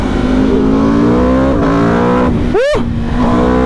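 A 2024 Aprilia RSV4 1100 Factory motorcycle engine roaring loud and close on a test ride, holding a steady high drone before a sharp rev sweep near the end.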